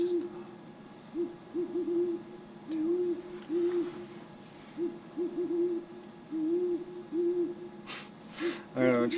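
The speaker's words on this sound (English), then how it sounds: "I'm gonna try and get through this with this freaking owl" An owl hoots repeatedly in steady clusters of low, soft calls, fairly close and clear, continuing through the stretch with a brief noisy rustle near the end.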